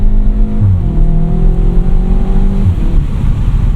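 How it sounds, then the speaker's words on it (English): A 2020 Cupra 290 with a DSG gearbox accelerates hard, heard from inside the cabin while driving in daytime. The engine note climbs and drops sharply at each gear change, twice in quick succession, loud and close. "You heard those gear change sounds, so the car definitely wants it."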